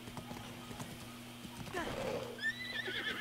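A horse in Zelda Breath of the Wild gives a loud whinny near the end, after clip-clop hoofbeats and faint game sounds.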